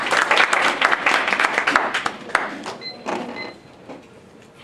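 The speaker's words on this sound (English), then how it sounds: "let's give Katherine a warm round of applause." An audience breaks into a warm round of applause, dense steady clapping from many hands that gradually thins and softens toward the end.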